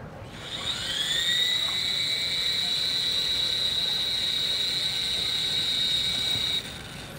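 A small drone hovering during a wireless charging demonstration, giving a loud, steady high-pitched whine that rises quickly, holds for several seconds, then cuts off near the end.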